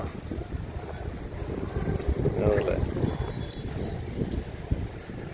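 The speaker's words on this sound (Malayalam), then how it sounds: "നല്ല തണുത്ത കാറ്റ് വീശുന്നുണ്ട് കേട്ടാ" Cold wind gusts buffet the microphone in a steady rushing roar in Qatar, with a faint voice murmuring briefly in the middle.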